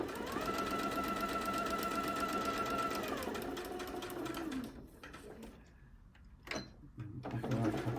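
Sewing machine running steady stitches while piecing foundation fan quilt blocks on a sewing bed with a light box, a close, even whirring hum that slows and stops, followed by a few quiet handling clicks.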